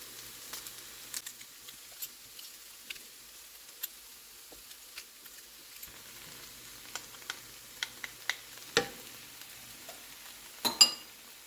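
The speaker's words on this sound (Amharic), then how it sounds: "ትንሽ ደግሞ ከሽንኩርቱ ጋር እናበስለዋለን።" Crushed garlic frying with onion in a pan gives a faint, steady sizzle, broken by scattered clicks and scrapes of stirring that grow louder near the end.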